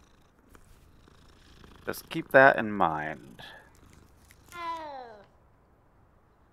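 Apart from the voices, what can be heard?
cat purring and meowing in Hogwarts Legacy video game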